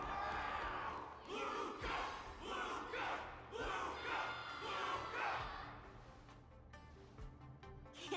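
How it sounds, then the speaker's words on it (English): A crowd roars and cheers in loud, swelling waves in Honkai: Star Rail, then fades toward a quieter, more scattered murmur near the end. "Can't you hear? Everyone's cheering for you, Luca."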